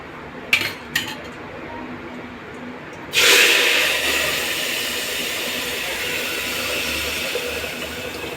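Urad dal tipped into a pan of sizzling cumin and mustard seed tempering: a couple of metallic clinks, then a sudden loud, hissing sizzle that stays steady and close.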